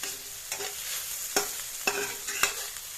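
Leftover shrimp scampi and instant ramen are sautéed in a pot, a low continuous sizzle broken by several sharp stirring scrapes spaced about half a second apart, fairly quiet with no talk.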